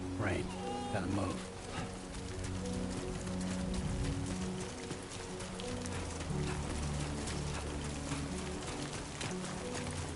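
Steady rain patter and hiss in Death Stranding 2, over a busy mix of game sounds and tones, with a voice talking over it.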